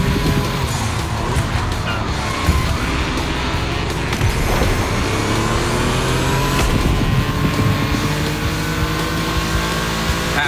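Race cars in The Crew Motorfest's gymkhana grid accelerate hard, with dense, loud engine roar, rising gear pulls and occasional tire squeal layered together throughout.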